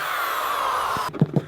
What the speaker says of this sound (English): once you drill a hole down here in the lowest point